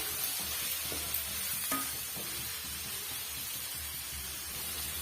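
Tomato masala sautéing in a pan and being stirred, a quiet, even sizzle with a few soft scrapes and taps from the spoon, no talking.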